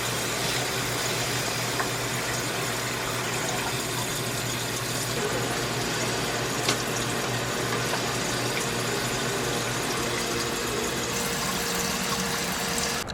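Water running into tanks as they are refilled, a steady constant rush of flow with a low hum underneath, unbroken for the whole stretch, no speech.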